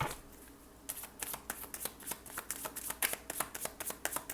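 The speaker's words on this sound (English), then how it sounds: "we're just going to do one complete shuffle" A deck of cards is given one complete shuffle, opening with a short quiet pause and then running into a quick series of crisp, riffling flutters and soft taps, close and clear with no voices.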